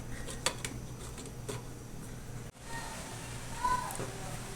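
A metal lid is set onto a cooking pot of ginataang alimasag at talong (crab and eggplant in coconut milk) with a short clatter. Light kitchen clinks follow over a low hum, and a person speaks briefly.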